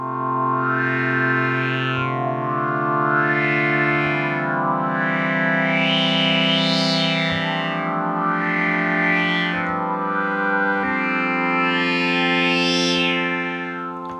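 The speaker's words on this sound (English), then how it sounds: "As you can hear, it's very easy to create a pad sound in this way." OB-Xd software synthesizer, modeled on the Oberheim OB-X, playing a sustained pad with deep filter sweeps that open and close in slow waves over held chords, full and steady, heard alone.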